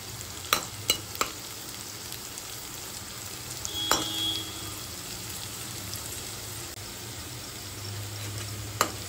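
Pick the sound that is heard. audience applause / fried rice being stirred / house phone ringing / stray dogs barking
fried rice being stirred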